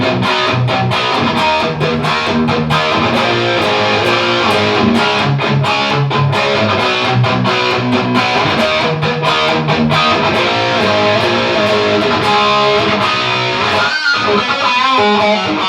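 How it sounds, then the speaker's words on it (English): Overdriven electric guitar through a Tube Screamer pedal riffing continuously, tight and gritty, loud and upfront with no talking, played on a Flying V kit guitar. "I'm going to kick on the tube screamer, and we'll try that same thing"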